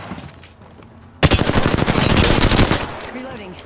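Rapid automatic gunfire in the Apex Legends video game erupts suddenly after a quiet moment, a loud close burst of shots lasting over a second before tapering off.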